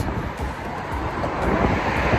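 Steady wind buffeting the microphone outdoors in Wales, a low continuous roar with gusts swelling slightly louder toward the end, no voices.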